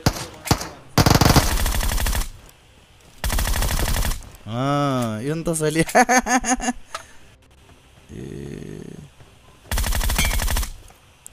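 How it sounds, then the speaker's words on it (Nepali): Gunfire in the mobile battle-royale game PUBG Mobile: several bursts of rapid automatic shots separated by pauses, with a voice speaking in between and alongside. "गोली हान्दै"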